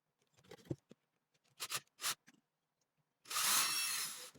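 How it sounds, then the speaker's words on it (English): A power drill whirs in a few short bursts as small holes are bored in a quail feeder hinge, ending with a longer, louder run; quiet between bursts, no speech. "And then we are going to drill these holes out."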